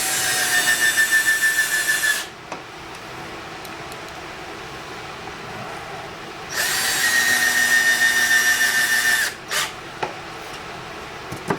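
Power drill driving screws into the corners of a Kreg router cabinet, two loud whirring bursts of a couple of seconds each separated by a quieter stretch, close to the mic.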